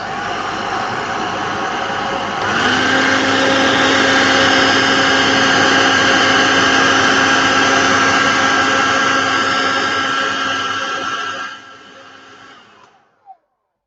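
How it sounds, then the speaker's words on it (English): A hair dryer blows steadily with a loud whirring drone that starts partway in, holds for several seconds, then cuts off. "And maybe a bit more hair dryer action"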